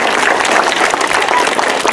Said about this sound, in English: give him a big hand of applause and say thank you